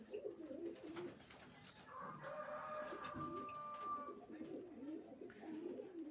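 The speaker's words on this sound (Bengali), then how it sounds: "বহুত পুরনো পায়রা, আমার অনেক পছন্দের পায়রা।" Madrasi pigeons coo close by, a few low rolling calls over a few seconds with faint background rustling and a longer trilled coo in the middle.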